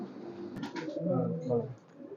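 Highflyer pigeons, a Hiralal Golden pair, cooing softly in low throaty bursts near a voice that talks over much of the moment.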